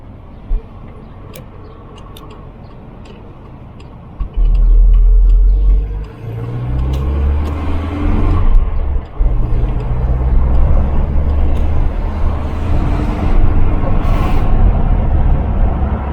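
Volvo 240 car with a strange noise being driven on the road, quiet idle-like hum that jumps to a loud, low engine rumble and drone as it pulls away, rising and steady.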